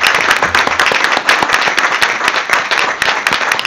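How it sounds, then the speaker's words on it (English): Dense applause in a city council meeting chamber, many hands clapping steadily and loudly for police chiefs without pause. "can we give our chiefs a round of applause?"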